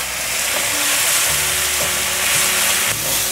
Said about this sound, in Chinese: 大略翻炒一下，加入水，大约放入100cc 的过滤水